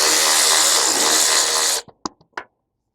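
A power tool spins hard while pulling bolts from a 250 motorcycle frame, a loud steady whir for almost two seconds, then stops sharply, followed by a few small clicks and knocks.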